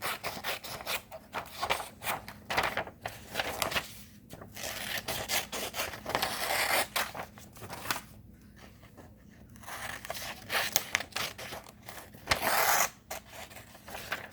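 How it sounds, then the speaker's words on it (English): Paper for a chemistry foldable is cut with scissors: close, crisp snipping and rustling strokes repeat in uneven bursts with short pauses, no voices. "let's go ahead and cut them."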